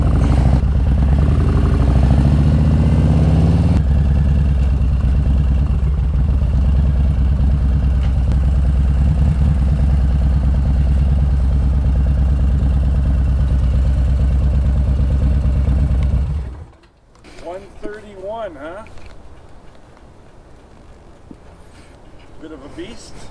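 A 2020 Harley-Davidson Road King with a Screaming Eagle 131ci Stage 4 engine idles close by in a deep, steady rumble for about sixteen seconds, then cuts off abruptly, leaving quieter sounds and voices.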